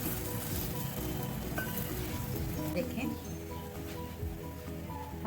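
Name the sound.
besan roti frying in oil on a pan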